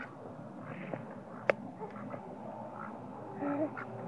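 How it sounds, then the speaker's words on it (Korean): Ducks quack outdoors as they walk up a small grassy hill in the early evening, giving a few short calls over steady background ambience, with one sharp nearby knock in between. "진짜 오리다."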